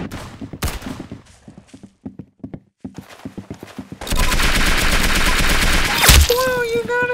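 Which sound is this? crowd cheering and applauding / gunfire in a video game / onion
gunfire in a video game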